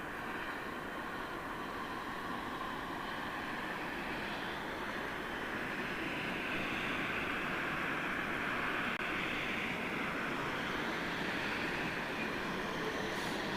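A Boeing 787 Dreamliner takes off at Heathrow Airport on a long, full-length departure. Its engines make a steady, distant broadband roar that holds even throughout with no talking.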